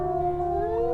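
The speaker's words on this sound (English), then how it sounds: "Do a nice howl as well." A wolf in the video game WolfQuest gives a steady, sustained howl, one unbroken tonal cry holding a level pitch for the whole second, fairly loud and alone.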